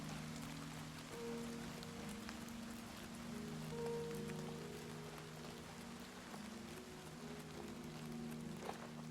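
Steady rain falling in the video game Oblivion, Knights of the Nine, a soft continuous patter under a low sustained tonal drone of game music.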